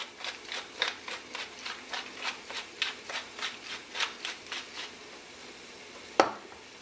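A pepper mill grinds fresh black pepper over a pot of smoky roasted butternut squash soup, with about a dozen steady, even crunching twists close up, then a single sharp knock at the end.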